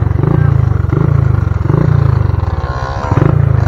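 A motorbike engine idles loud and close with a lumpy, pulsing rhythm, its exhaust throbbing in regular beats for a few seconds.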